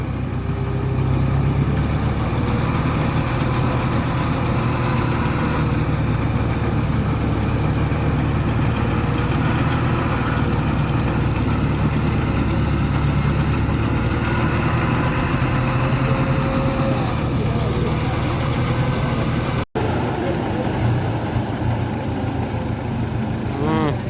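A rice threshing machine powered by a tractor engine, droning loudly and steadily at close range throughout, with a brief dropout near the end and people talking over it.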